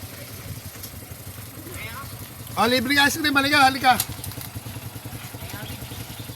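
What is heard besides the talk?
motorcycle engines idling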